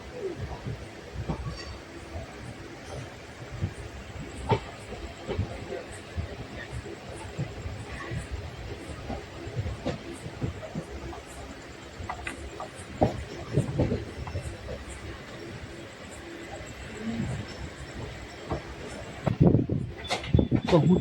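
Nagercoil Express night train under way out of Coimbatore, a continuous rumble with rhythmic wheel clatter and rattling carriage noise, heard from inside the train, with a louder surge near the end.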